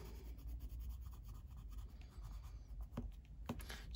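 A pencil scratches steadily across paper while colouring, a soft, continuous close-up scribbling with a few sharper strokes near the end.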